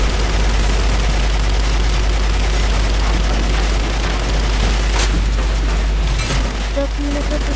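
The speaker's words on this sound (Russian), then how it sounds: "Давайте постреляем в этот." Gunfire in a War Thunder naval battle, a loud, dense, continuous roar of shots and booms with a few sharper reports standing out near the end.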